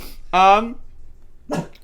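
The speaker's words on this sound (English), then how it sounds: "Max, what the fuck are you barking at, bro?" A pet dog barks indoors, one loud harmonic bark followed by a shorter yelp about a second later, close to the listener with a faint background hum.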